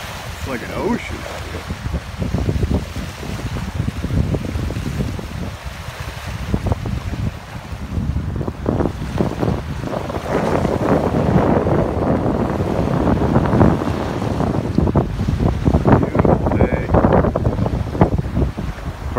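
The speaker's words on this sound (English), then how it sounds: "Probably can't hear me because of the wind," Strong, gusty wind on Cayuga Lake buffets the microphone with a constant roar, water sloshing beneath it, while a person speaks faintly under the noise.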